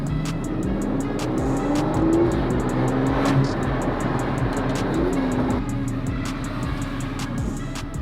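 Aston Martin car driving on London roads, a steady engine hum with shifting gear tones and regular ticking clicks, heard from inside the car at moderate loudness.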